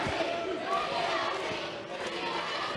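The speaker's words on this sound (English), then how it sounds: "Do you hear this crowd?" Live wrestling crowd roaring steadily in an arena, a dense continuous wall of cheering and shouting with a commentator talking over it.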